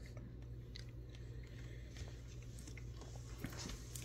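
Soft, close biting and chewing of a fresh, homegrown strawberry, quiet mouth sounds over a steady low background hum.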